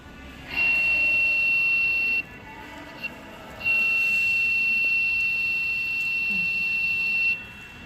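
A steady high-pitched transistor-driven electronic buzzer in a fire-response and water level detector project sounds twice, a short tone and then a longer one, loud and close, with a brief pause between.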